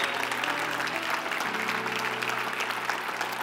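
A church congregation applauding, a steady wash of many hands clapping at moderate loudness, with a low sustained hum underneath and no speech.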